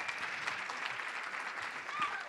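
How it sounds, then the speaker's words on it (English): Audience applause at a consciousness-themed summit talk, a steady dense wash of clapping from a large crowd filling the whole stretch at even loudness. "If I get applause for just saying my name"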